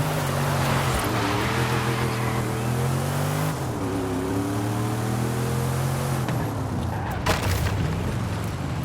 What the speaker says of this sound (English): That has to be the most beautiful sounding V8 I've heard of any car ever.